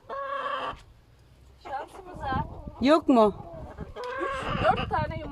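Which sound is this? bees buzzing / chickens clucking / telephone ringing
chickens clucking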